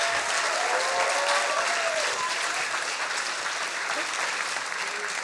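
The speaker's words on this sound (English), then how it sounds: "Please, big applause for Roberta." Audience at a science slam during Berlin Science Week applauding a speaker, sustained dense clapping from a sizable crowd, even and continuous, with a few voices mixed in.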